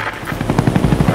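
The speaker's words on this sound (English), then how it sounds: "Alright, I'm gonna use this chopper." A Huey helicopter in the shooter game Call of Duty: Black Ops, its rotor beating in a loud, rapid pulsing thump over steady engine noise.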